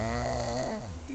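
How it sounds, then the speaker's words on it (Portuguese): An animal snores through its nose, a single drawn-out, rasping, tonal snore at close range with no talking over it. "Voltou a roncar."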